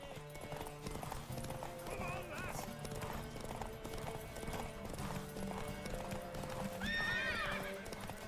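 A horse in The Witcher 3: Wild Hunt clip-clops along with steady hoofbeats and gives a loud whinny near the end, mixed with game music and a person talking.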